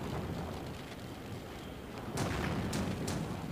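Gunfire and explosions rumble through a battle in the video game Payback 2, a dense, steady roar with several sharper booms near the end and no one talking.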